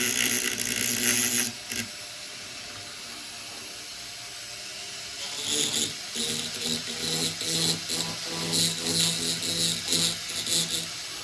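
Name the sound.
milling a key part for a lock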